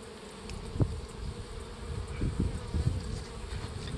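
Honey bees drone in a steady, close buzz at an open nuc hive during beekeeping, with faint handling knocks underneath and no talk.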